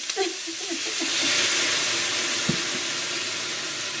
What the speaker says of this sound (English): a bit of water, and we're going to have a good sizzle happen now